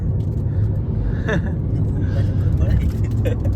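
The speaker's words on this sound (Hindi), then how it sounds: "अच्छा ये अपने भैया गाड़ी चला रहे हैं।" A car rumbles steadily from the inside as it is driven, its engine drone constant beneath the cabin hum, while people talk over it.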